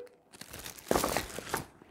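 A thin plastic produce bag holding six Gala apples from a Lidl supermarket in Spain crinkles and rustles close up, with several louder crunchy bursts in quick succession and no talking.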